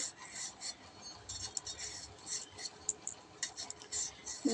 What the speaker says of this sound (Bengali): চারটে আলু দেবো দুটো কাটা হয়ে গেছে আর এইটা কাটছি